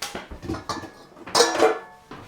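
A large metal cooking pot being handled in a kitchen while making a cake, with several dull knocks followed by louder metallic clanks and scrapes close by and no talking.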